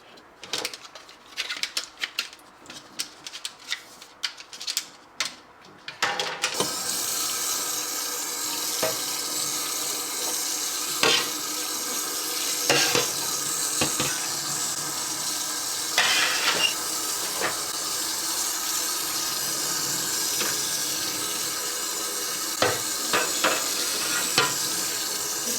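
Tap water rinsing tempered glass fridge shelves in a sink: a few seconds of light clinks and handling, then a loud, steady rush of running water with occasional knocks against the glass, close up.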